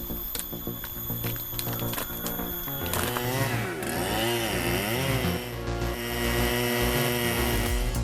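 A big, powerful chainsaw cuts high tree branches, its engine droning loud and close before the pitch bends and wavers as the chain bites into the wood, then settling into a sustained heavy whine.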